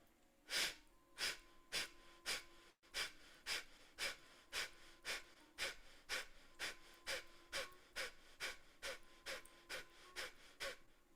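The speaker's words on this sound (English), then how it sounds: "The inhalation is natural, and forcefully we are exhaling." A forceful exhaling breathing exercise at a chakra workshop, with about twenty sharp, evenly spaced breaths pushed out through the nose in a steady rhythm. The breaths are close and moderately faint, with no talk between them.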